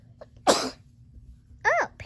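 A little girl sneezes twice, with a sharp, close burst and then a second one a moment later, in a quiet room.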